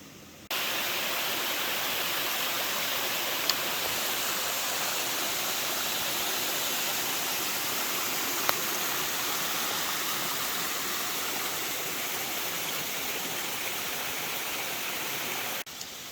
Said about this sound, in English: So that is one of the 3 waterfalls that I'm going to come across on this climb.